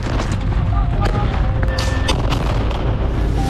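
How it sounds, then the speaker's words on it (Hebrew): Loud, continuous booming of explosions during a rocket attack, dense and overlapping with crackling bursts and a wailing siren-like tone threading through, close and overwhelming. "התחילו פיצוצים."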